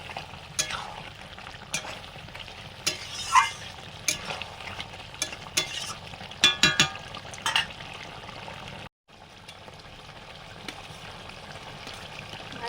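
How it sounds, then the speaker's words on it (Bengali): Chicken meat being stir-fried (kosha) in a pan, with a steady close sizzle and repeated scraping, stirring knocks through most of the stretch, a brief near-silent gap, then the sizzle resumes. "মাংসটা কষানো চলছে"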